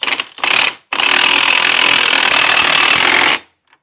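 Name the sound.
tightening Ford Escape strut mount bolts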